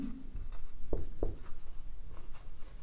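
Pen scratching across a surface by hand, a few short strokes and two sharper taps, close and fairly quiet with no talking.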